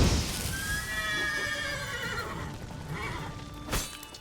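Roach, a horse in The Witcher 3, gives a long, close whinny that rises and falls over a steady background rumble, with no talking.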